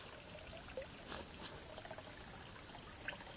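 Water trickles slowly through a siphon hose into a tank, a soft, steady, continuous dribble with faint splashes and no speech.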